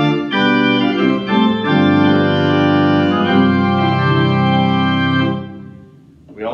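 All Saints church pipe organ playing a full combination with a bright mixture stop added, sustained chords ringing steadily for about five seconds before releasing into the room, no talking.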